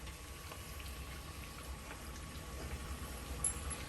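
Hot grease in a deep fryer heating up for Korean fried chicken gives a steady, soft crackling and sizzling hiss with faint pops, alone and at an even level throughout.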